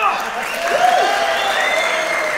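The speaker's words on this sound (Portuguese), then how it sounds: "Agora talvez só os homens aplaudam." Audience at a Brazilian stand-up comedy show applauds steadily, a dense wash of clapping mixed with cheers and shouted voices throughout.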